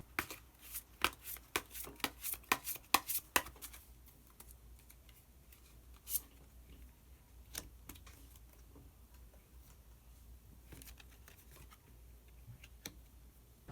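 Tarot cards are handled close up as a hidden card is drawn from the deck, producing a quick run of soft snapping taps over the first few seconds, followed by sparse, faint clicks against a quiet background.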